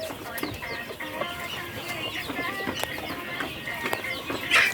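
Chickens cluck and call at close range, native hens mixed with black Australorps and a rooster, in a steady busy flock with sharp bursts throughout and a louder cry at the end.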